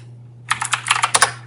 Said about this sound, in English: So let's type our super secret password.